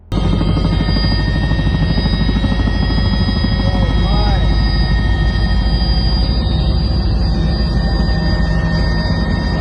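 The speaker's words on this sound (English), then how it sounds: "A helicopter flying over a glacier captured this unique sight." A helicopter flying over a glacier, its loud, continuous rotor and engine roar filling the whole stretch, steady and close, with no break.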